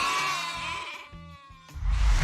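Sheep bleating loudly and close, several drawn-out wavering cries one after another with short gaps, alone without speech.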